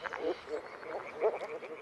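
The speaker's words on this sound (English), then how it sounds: "This is the signal for moor frogs to gather in their thousands at their spawning grounds." Moor frogs calling at a spawning ground in flooded riverine forest, a soft chorus of short, bubbly croaks rising and falling in close overlapping bursts.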